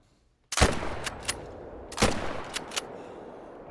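Two sharp, loud rifle shots ring out in the hunting game theHunter: Call of the Wild, about one and a half seconds apart. Each crack leaves a short rolling echo with a few fainter reports trailing after it.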